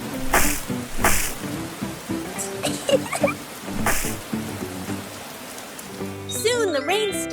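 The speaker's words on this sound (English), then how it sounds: "The rain fell pitter-patter, forming big puddles all over the ground." Cartoonish rain effect with bursts of pattering drops over a light musical bed, ending in playful bouncy tones.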